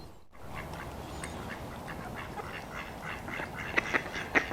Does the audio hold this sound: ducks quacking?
yes